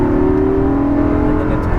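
Exotic sports car accelerating at full power on a racetrack, a loud steady engine roar with a rising tonal drone, close and continuous throughout with no talk.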